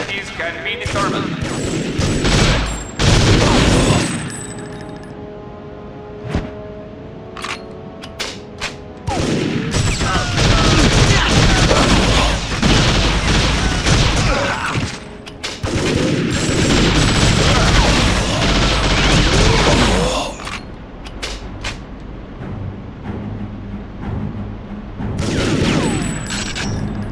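Heavy gunfire in TimeSplitters: Future Perfect, a 1969 base mission, with rapid bursts and booming shots in long loud volleys separated by brief lulls; voices break in between.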